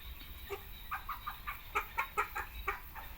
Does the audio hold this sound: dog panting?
no